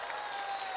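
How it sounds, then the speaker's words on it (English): Conference audience applauding at a large convention hall event, a dense, steady wash of clapping throughout the short moment with no voice over it. "Let's give them a big round of applause."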